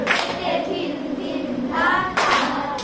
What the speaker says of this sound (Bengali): নাইকে তালি দিবে